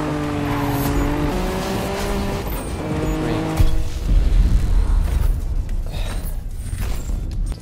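A car in the Need For Speed racing game drifts with loud, sustained tire squeal over a steady engine tone, then settles into a rougher, rumbling skid toward the end.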